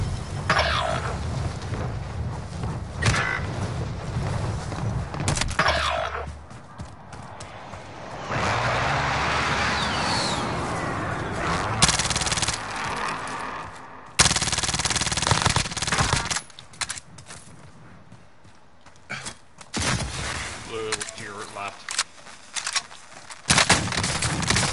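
Rapid automatic gunfire from a first-person shooter with weapons such as the FFAR and MAC-10, in dense bursts and sustained volleys that stop and start over the whole stretch, loud and close with brief quieter gaps.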